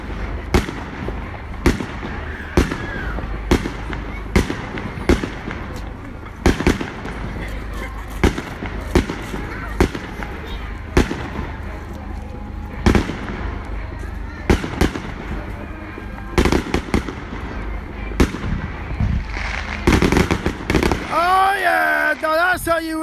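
Fireworks display bursting at Manor Fields on Bonfire Night, 5 November, with repeated loud booms and crackles spaced every second or so, building to a dense finale with whistling rockets near the end.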